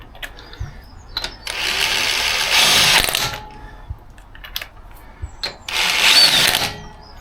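An air impact gun spins wheel nuts onto a Ford Focus RS hub in two long whirring bursts, with ratcheting clicks and clanks of handling in between, close and fairly loud.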